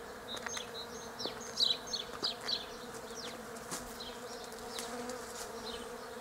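Honeybees foraging on tree buds outdoors on a cold day, several buzzing close by in passing swells over a steady faint background hum.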